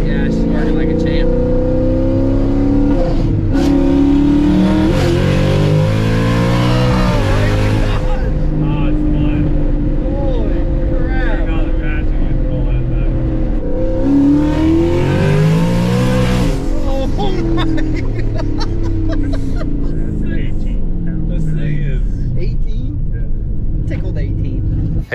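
A turbocharged Ford F-150 pickup with a transmission cooler rolls down a street, its engine note loud and continuous throughout, swelling twice as it accelerates, with people talking over it.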